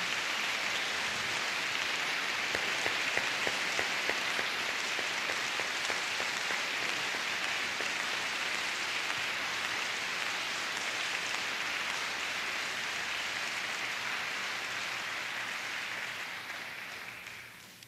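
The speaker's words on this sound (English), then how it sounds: "I want you to all right now to give this group one heck of a round of applause for playing some hard music." An audience at a live jazz performance applauds a Coast Guard band. The dense crackle of many hands clapping holds steady for a long stretch, then fades out at the end, with no voices over it.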